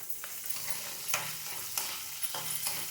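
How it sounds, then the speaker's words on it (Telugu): Onions sizzle steadily in a hot pan for a Chinese spinach stir-fry, with a continuous broadband hiss and a few soft clacks of a spatula stirring at intervals, close and fairly quiet, no voices. "వేగిన తర్వాత ఆనియన్స్ వేస్తున్నాను నేను."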